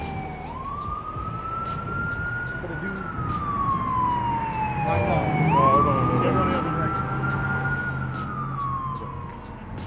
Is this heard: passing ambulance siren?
yes